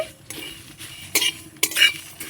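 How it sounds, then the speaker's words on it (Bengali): Dry spices and dried red chillies stirred in a dry pan, a scraping rustle with sharp metallic clinks of a spoon on the pan in a few loud bursts; no voices. "তো মশলাগুলোকে আমি নাড়াচাড়া করে ভেজে নিয়েছি"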